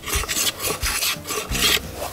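Polishing inside a hollow bamboo lantern made from wild bamboo, a close, loud scraping rasp in uneven strokes with brief pauses between bursts, no voices.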